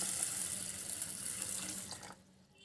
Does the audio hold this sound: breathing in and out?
no